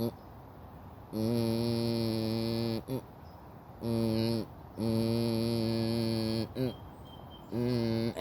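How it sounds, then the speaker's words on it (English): A steady hum-like demonstration tone with strong harmonics plays in repeated bursts separated by short breaks, fairly loud and alone. "Say if you hear a tone that sounds like this."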